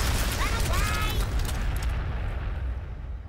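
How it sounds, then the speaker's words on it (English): Missile launchers firing in the Warhammer 40,000: Sanctus Reach video game, a dense burst of booming explosive rumble with whooshing streaks that fades into a rolling low roar. "we do have missile launchers, so we could just kind of frag them and wipe them out"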